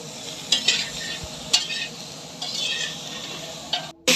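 Cauliflower fries and is stirred in a pan with turmeric, making a steady hiss with several sharp scrapes and clinks as the pieces are turned, close up and without speech.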